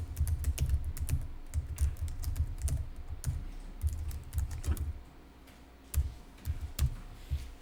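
Steady computer keyboard typing during data entry, a run of quick close key clicks with heavier keystrokes mixed in, pausing briefly before resuming, with no talk.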